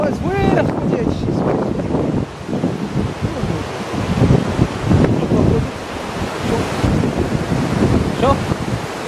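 Loud rushing floodwater of a river in Morocco roars continuously with gusty wind buffeting the microphone outdoors; a voice is faintly heard at moments.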